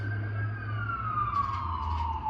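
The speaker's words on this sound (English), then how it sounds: "I'm in Newark, Brick City, so you're going to hear the sirens" A police siren wails through the city streets of Newark on a Sunday morning. Its steady tone slides slowly downward, moderately distant over a low traffic rumble, and no one speaks.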